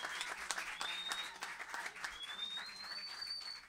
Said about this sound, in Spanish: Fuerte el aplauso de vuelta para el toque.